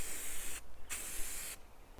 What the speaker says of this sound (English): So when you spray it, just spray it like this.